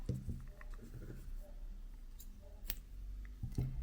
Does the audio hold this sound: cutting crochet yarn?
yes